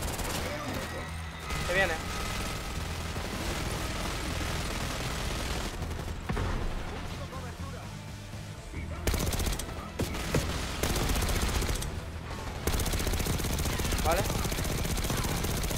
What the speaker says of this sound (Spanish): Una ametralladora aquí perfectamente colocada para que yo la pille.